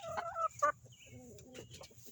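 Chickens clucking close by in a backyard flock, a few quick clucks and short squawks in a brief burst, fairly soft.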